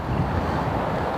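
Steady wind buffeting the microphone beside a lake at a carp fishing syndicate, a dense broadband rumble with faint water lapping beneath it, continuous and close throughout.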